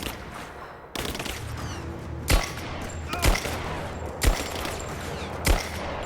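Assault rifle fire in Rise of the Tomb Raider: four sharp, loud gunshot bursts spaced about a second apart over a steady rumbling game background, no voices.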